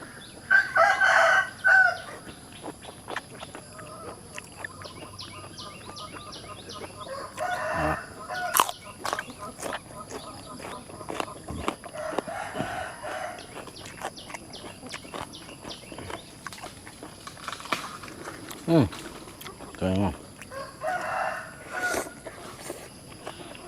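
Roosters crow repeatedly and chickens cluck and scratch around a rural farmyard, with loud crows rising out of a quieter, busy background.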